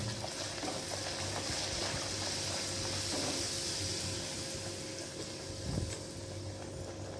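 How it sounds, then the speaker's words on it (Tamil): Poori frying in a pan of hot oil, a steady close hiss and sizzle that runs throughout with soft bubbling and faint stirring scrapes. "இப்போ நமக்கு சட்டியில் எண்ணெய் காஞ்சிச்சு அண்ட் போட போகிறேன்."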